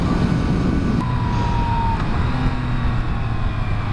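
A 2017 Yamaha FZ-09 motorcycle engine drones steadily and loudly, its pitch holding and rising slightly as the throttle opens, with wind and road roar mixed in throughout.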